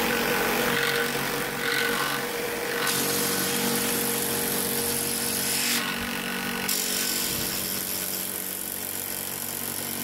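A power saw cuts wood strips to length for a lean-to walkway roof, giving a loud continuous whine with brief cuts that change tone partway through, heard close up.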